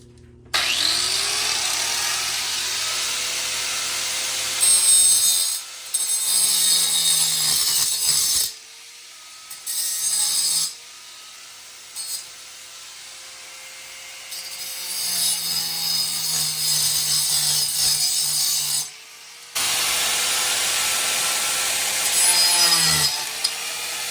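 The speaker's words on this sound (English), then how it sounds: "So we're gonna grind those off so we can finish the top step." A loud power tool grinds off metal fasteners in long harsh bursts, stopping and restarting several times, close and continuous between brief pauses.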